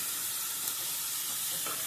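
A steady, close sizzle of onions frying in a pan with salt added, a continuous hiss that stays even throughout with no talking.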